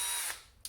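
Battery drill spinning sandpaper against a 3D printed part, a brief high whirring hum that fades, then a short scuffing burst at the end.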